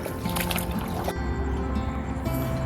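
An outboard motor on a small fishing boat among mangroves, a steady mid-level drone with light water slosh and gurgle around the hull.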